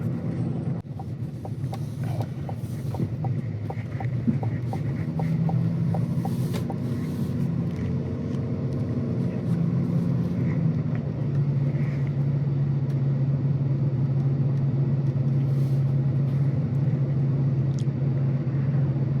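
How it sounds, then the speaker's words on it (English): Low, steady diesel engine rumble heard from inside the cabin of a 2025 GMC Sierra 1500 Denali pickup, still somewhat cold, subdued and continuous, with a slight rise in pitch partway through. "This diesel, even though it's still somewhat cold, the noise is just so unintrusive into the cabin."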